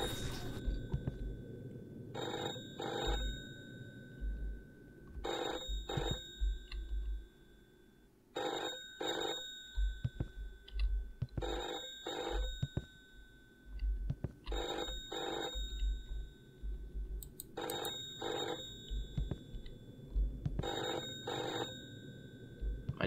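A telephone rings repeatedly in the Martha indie horror video game, paired bell trills recurring at regular intervals over a low ambient hum, clear and unanswered, with no speech.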